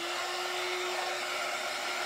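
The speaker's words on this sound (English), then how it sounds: "Where's my heat gun?" A heat gun blows with a steady, loud hiss and a constant whine, drying paint on a DIY gumball machine built from dollar-store supplies; the hot air runs unbroken and close, with no talking.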